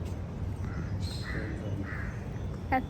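Several birds call in short, repeated outbursts, including crow-like caws, heard at a moderate distance over a soft outdoor background at a Kalika Devi temple.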